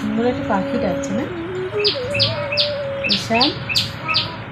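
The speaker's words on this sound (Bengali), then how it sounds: "কি সুন্দর একটা পাখি ডাকছে না?" A bird sings outdoors on a rainy morning, repeating short bright chirps and whistled notes in quick phrases, with a steady rain-like background hiss and other tonal sounds mixed in.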